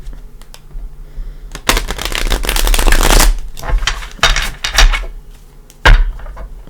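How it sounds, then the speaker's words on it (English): Luminous Tarot cards shuffled by hand in a few bursts, crisp riffling rustles close to the microphone separated by short pauses and light taps. "Give it a couple shuffles,"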